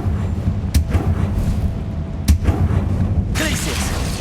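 Confringo fire spell blast in Hogwarts Legacy, two sharp booming impacts about a second and a half apart over a steady low rumble, followed by a bright crackling burst near the end.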